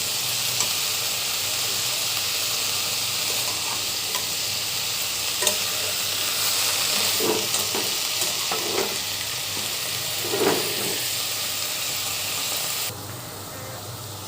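Leafy greens seasoned with salt and turmeric fry in a pan, making a continuous close sizzle with occasional scraping and clinking stirs partway through.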